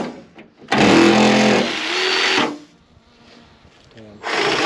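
A saw cuts a plastic fender flare on a Toyota Tacoma with loud, close, rasping strokes in a long burst. A quieter pause with faint sounds follows, then the sawing starts again.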